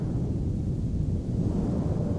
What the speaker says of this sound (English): there's some loud thunder outside right now